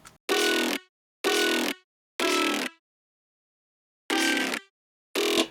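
Five short, punchy synth-and-bass stabs, each lasting about half a second, separated by silence in an uneven rhythm.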